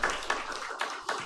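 A few scattered, separate hand claps from a chapel audience at a university service, spaced unevenly and moderately close, with no sustained applause building.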